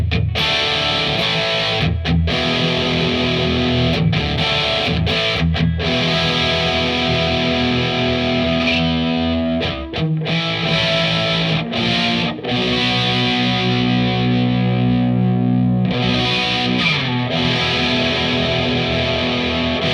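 A Joe Bonamassa Black Beauty electric guitar plays loud through heavy distortion, with sustained chords and lines ringing continuously for about twenty seconds and only brief breaks between phrases.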